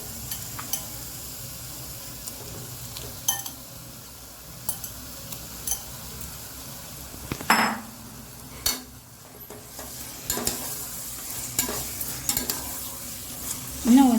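Minced mutton keema stirred in a pan with tomatoes for a curry with amaranth leaves, a steady low sizzle with scraping spoon strokes and occasional clinks against the pan, continuous and close.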